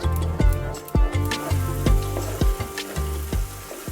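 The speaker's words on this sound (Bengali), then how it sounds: "ঠিক এইরকম পেঁয়াজ আর টক দইয়ের পেস্টটা দিয়ে দেবেন। এটাও 2 মিনিট নাড়াচাড়া করে নেবে।" Onion and yogurt paste sizzles in a pan for restaurant-style matar paneer while a utensil stirs it, giving a steady fry hiss broken by repeated scraping knocks about every half second.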